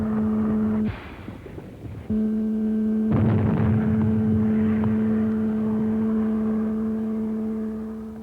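Submarine torpedoes fired in a World War II Pacific naval setting: a steady low mechanical drone with a brief dropout, then a loud rushing whoosh of launch noise that swells and slowly fades, with no talking.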